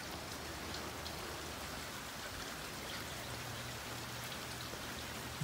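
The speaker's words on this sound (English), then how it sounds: "And now comes the rain." Steady rain falling during an electric thunderstorm, a dense even hiss of drops striking surfaces that persists throughout at moderate loudness, with a low rumble underneath.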